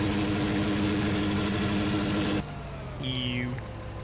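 Schlüter tractor engine from Farming Simulator 2013 drones steadily with harmonic tones, then drops to a quieter level partway through as its pitch shifts, with a short rising-and-falling whine near the end.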